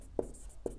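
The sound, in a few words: writing chalk or pen marks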